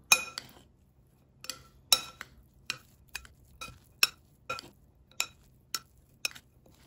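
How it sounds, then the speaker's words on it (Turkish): A spoon stirring kısır bulgur salad ingredients together in a bowl, producing a series of sharp, separate clinks against the bowl in an irregular rhythm, close and quiet, with no talking. "Birbirine karışıncaya kadar güzelce karıştırıyorum."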